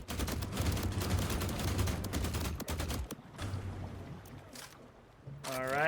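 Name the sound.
gunfire with bullets ricocheting in a video game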